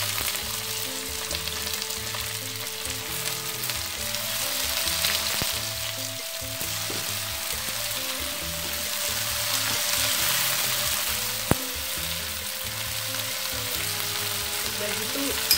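Tomatoes sautéing in a pan for Medan-style tauco shrimp sambal give a steady close sizzle and crackle throughout, with occasional stirring scrapes and no talk.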